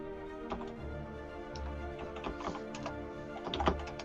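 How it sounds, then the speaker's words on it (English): Steady, close keyboard typing, a quick run of light ticking keystrokes with no talking, during an online tabletop fantasy game session. "While you're typing away"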